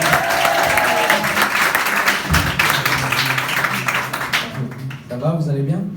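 A concert crowd at a live show applauds and cheers loudly, dense clapping and shouts filling the space, fading near the end as a voice starts speaking.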